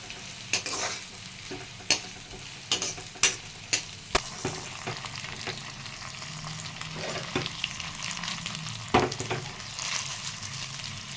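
Mushroom manchurian frying in a pan with green chillies, a continuous sizzle punctuated by sharp, repeated scraping and clanking strokes of a spoon stirring, close and fairly loud.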